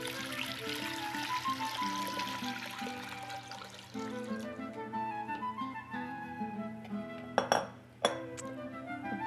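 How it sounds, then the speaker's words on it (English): Water pours into a cast iron soup pot for lentil soup with a steady trickle, joined by light clinks and a couple of sharp knocks near the end, close and fairly quiet with no talking. "To this, I'll add 8 cups of water."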